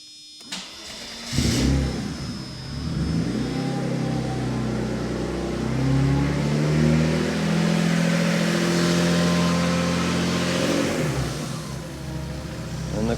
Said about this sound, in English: And the car idles normally.